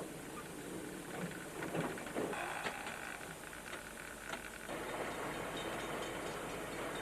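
Japanese-made diesel-electric DJ class locomotive on South Island railways, heard as a steady rumbling train passage with rail clatter and hiss, continuous and fairly loud throughout with no talk.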